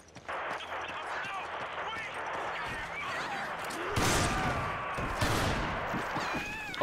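Gunfire in Resident Evil 5 pops in a couple of bursts amid busy game noise and shouting enemies, with people talking excitedly over it throughout.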